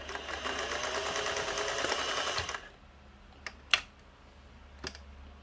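A Singer 401A sewing machine runs a steady, continuous stitching whir for about two and a half seconds, then stops, leaving a few sharp mechanical clicks and ticks in the quiet afterward.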